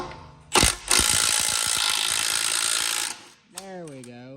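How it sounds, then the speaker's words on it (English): An impact wrench removes the front wheel of a wrecked BMW M2, with a short burst and then a sustained loud rattling hammering for about two and a half seconds, followed by a brief voice. "Got my impact right here, and let's see if this thing will unscrew."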